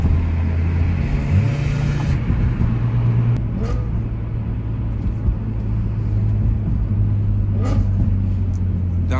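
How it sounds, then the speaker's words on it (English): BMW M3 engine revving on a downshift, heard as a loud, steady engine drone with brief rising rev blips partway through, close and continuous. "Downshift is nasty."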